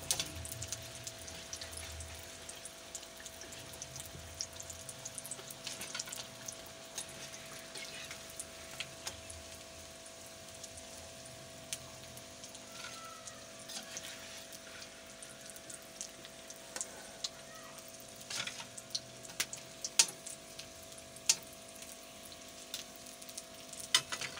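Chicken samosas fry in oil with a soft, steady sizzle and crackle, faint and continuous, with occasional splashes and kitchen clatter.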